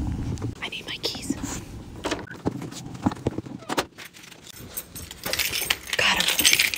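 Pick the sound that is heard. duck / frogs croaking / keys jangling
keys jangling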